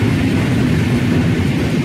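A MÁV train passes on a Hungarian railway line, a loud, steady low rumble of wheels on track filling the whole moment, close by and without voices.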